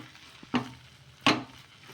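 A mixture is stirred and pressed in a pan over a medium flame, with two short, distinct scraping strokes over a faint background sizzle.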